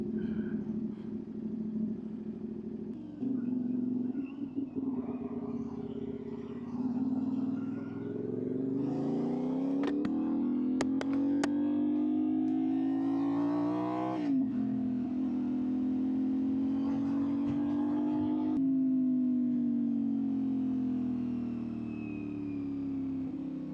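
A motorcycle engine starts and settles into a steady running rumble, then is blipped through several rising and falling revs before holding a sustained idle, close and continuous throughout.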